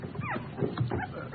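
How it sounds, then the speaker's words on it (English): Puppy whimpering from inside a box, a short string of soft, thin whines and yips heard close up against a muffled background. "there's something in the box. I know that. Something alive."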